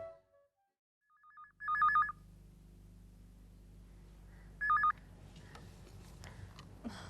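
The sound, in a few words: telephone ringing while placing a call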